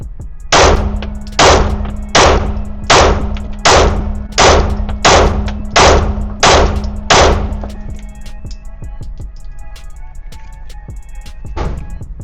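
Shadow Systems pistols fire about ten loud, evenly spaced shots at an outdoor range, then the echo fades into quiet ambience with no talking.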